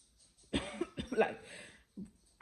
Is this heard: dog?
no